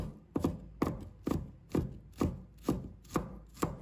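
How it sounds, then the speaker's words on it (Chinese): Knife chopping garlic into mince on a board, eight sharp, evenly spaced chops about half a second apart, close and clear with nothing else sounding. "然后再给它切成蒜末"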